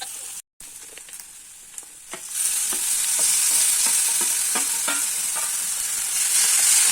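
Garlic, capsicum and onions frying in butter in a pan, scraped and stirred with a utensil; the sizzle swells loud after a short gap early on, with repeated stirring scrapes over the frying.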